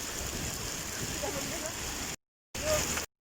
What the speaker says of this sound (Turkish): Arkadaşlar şu an dolu yağıyor.